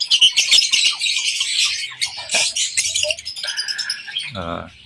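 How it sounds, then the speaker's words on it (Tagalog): A molting free-flight pet bird squawks shrilly and repeatedly at close range, harsh calls coming in rapid bursts, with a brief voice near the end. "si Una, yung aking unang free flight na free flyer na ibon na yan."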